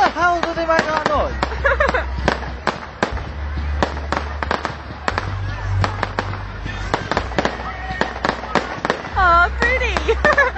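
Fireworks display on Stand Road, with dense bursts of loud bangs and crackling pops, some quick and clustered, others spaced, over a steady low rumble, while people talk nearby.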